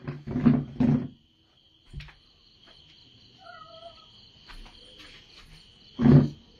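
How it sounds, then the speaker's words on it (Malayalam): A cat cries out loudly close by while eating, two quick yowls followed by another after a long pause, with a faint chirp of insects between. "എൻ്റെ പൂച്ച കരയുന്നുണ്ട്"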